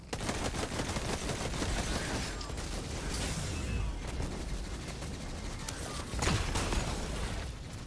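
Rapid bursts of assault rifle fire from a Destiny 2 match, continuous crackling shots layered with game sound effects and soundtrack at moderate loudness, with no clear pauses.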